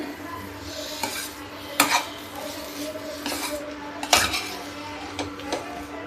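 Spices with coriander powder being roasted and stirred in a pan while making semolina dosa, with several sharp spoon-on-pan clinks and scrapes over a low background hum.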